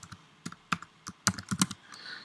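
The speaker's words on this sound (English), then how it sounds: "So we're typing on the Pi" Quick bursts of keystrokes on a computer keyboard connected to a Raspberry Pi, close and fairly quiet, irregular clicks with short pauses between them.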